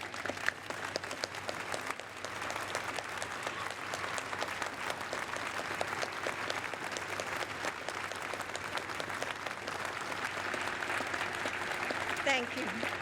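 A crowd at the christening ceremony for the submarine Delaware (SSN 791) applauds military spouses and significant others, producing steady, dense applause that continues for over ten seconds with faint crowd murmur beneath.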